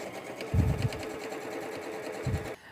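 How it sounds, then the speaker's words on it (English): Sewing machine stitching steadily as quilt pieces are chain pieced, with a soft continuous whir and a couple of louder low thumps, close by with no talk. "Erica, we have chained our pieces here."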